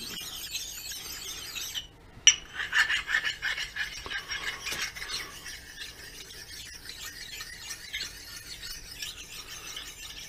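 A coarse file rasping along the edge of a metal drawbar for a Jarno taper, a series of scratchy strokes with squealing overtones after a short pause, fading to lighter rubbing, with no talk.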